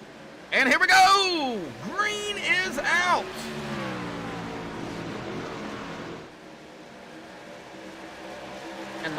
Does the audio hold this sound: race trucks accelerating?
yes